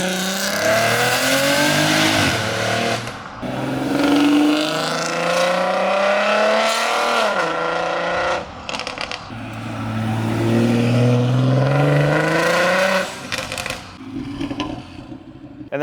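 A JB4-tuned car on its original exhaust, before an F90 M5 exhaust retrofit, revs loudly and up close, its engine note rising and falling through several blips in a sustained, throaty run with no talking.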